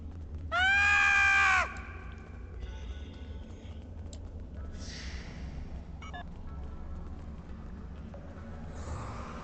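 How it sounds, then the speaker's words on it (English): Quark, the Ferengi character in the Star Trek Online video game, lets out a short, loud, high-pitched scream near the start, followed by quieter game sound effects over a steady background hum. "I love the Quark scream."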